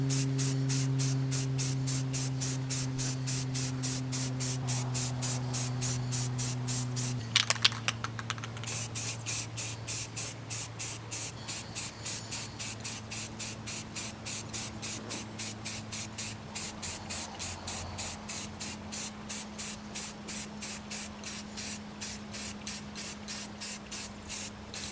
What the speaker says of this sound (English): I'm gonna do 1 coat of self-etching primer, maybe 2, probably 2 coats of black